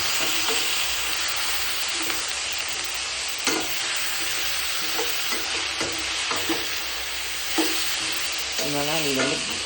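Tomatoes frying in a pan for bachelor-style tomato rice, a steady close sizzle broken by repeated scraping stirs of a spoon against the pan throughout.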